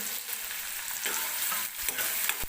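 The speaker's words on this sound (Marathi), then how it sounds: "मऊ होईपर्यंत कांदा आपल्याला तेलामध्ये भाजून घ्यायचा आहे" Finely chopped onion frying in hot oil, a dense bright hiss of sizzling that holds steady and close, swelling slightly with brief stirring pulses.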